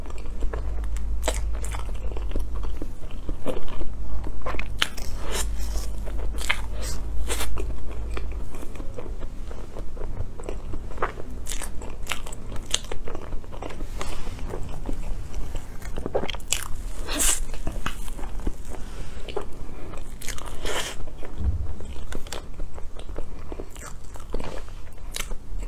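Crepe cake filled with black sesame mochi is eaten close to the mic, giving steady soft bites and moist chewing with small crackles and squishes for the whole stretch, without any talking.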